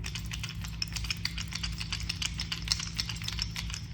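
Rapid, irregular wooden clicking and rattling of a handmade all-natural wood fishing lure (Chug or Mama Chug) shaken close by, with a steady low hum running underneath throughout.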